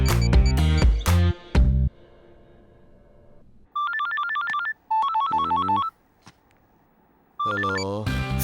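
A phone ringtone plays in repeated electronic bursts, separated by pauses, following a few loud musical chords at the start.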